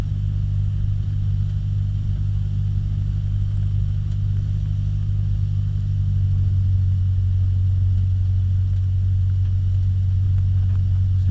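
A Cessna 152's piston engine drones steadily and loud from inside the cockpit while taxiing, a deep constant hum with a faint rise in throttle partway through.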